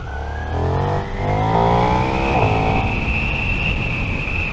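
A KTM 1390 Super Duke R motorcycle accelerates hard on the road, its engine note climbing steadily in pitch through one long, loud, close pull.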